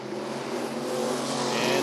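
Race cars at Rockford Speedway roar together in a steady, loud, sustained engine drone that builds slightly as they run door to door down the backstretch.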